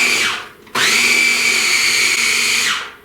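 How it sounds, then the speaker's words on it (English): A blender whirs loudly through a chocolate cheesecake mixture in two pulses: a short burst that winds down, a brief pause, then a longer steady run that spins down at the end. "So I'm going to give it a few taps till I get all of this blended together."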